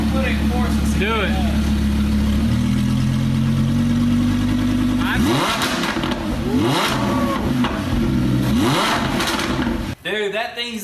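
Up close, a rebuilt Lamborghini Huracan with a new short exhaust idles with a deep rumble, then is blipped in a rapid series of loud revs before it cuts away.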